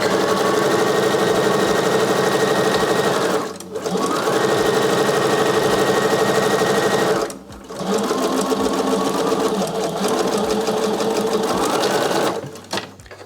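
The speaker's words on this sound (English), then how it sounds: "I'm just letting the sewing machine feed dogs do the work." A sewing machine runs steadily with a dense mechanical whir, pausing twice briefly before resuming its continuous stitching hum.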